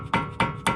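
Hammer striking a screw on a car's front suspension, three sharp metallic blows evenly spaced and close, with a brief ringing after each hit.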